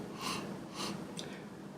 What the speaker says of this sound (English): Let's take another sniff.